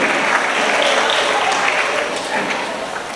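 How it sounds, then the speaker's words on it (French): Applause for an honoree at a school competition final, a thick continuous crowd clapping that holds steady and then tapers a little over about three seconds. "Applaudissements pour Dolima."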